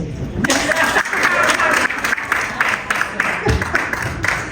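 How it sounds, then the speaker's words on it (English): Audience applause after a talk on funeral plans in Canada and the USA, moderately loud clapping from a modest crowd that lasts several seconds, with a few voices underneath. "If you want to applause for me, by all means, go ahead."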